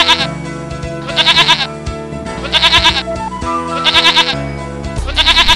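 Sheep in an animated children's story bleat in repeated wavering calls over a musical score, loud and close, with a voice speaking between them.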